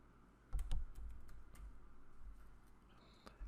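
Someone types on a sticky computer keyboard, producing a quiet run of close, irregular key clicks with a few sharper taps standing out.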